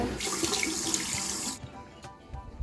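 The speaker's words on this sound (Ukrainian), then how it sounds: "Давай я його помию під краном" A plastic toy ladybug is rinsed under a running kitchen tap, giving steady, close, broadband water noise for about a second and a half before the flow stops, leaving brief drips and small handling sounds.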